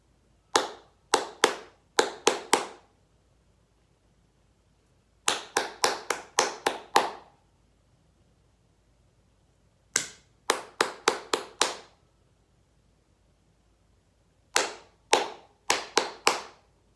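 Crisp hand clapping in short rhythmic phrases for a clap-back rhythm game in a quiet room, four separate bursts of several claps each with silent gaps between them.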